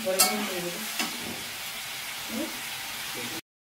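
Egg curry masala with potato sautéing in a pan, a continuous close sizzle broken by a couple of sharp spoon scrapes as it is stirred, with no one talking.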